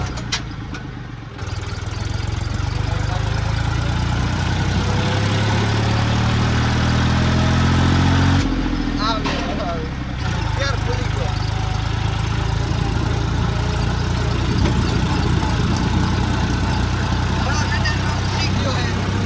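A tractor engine idles steadily with a low, continuous rumble throughout, and a voice talks over it at times.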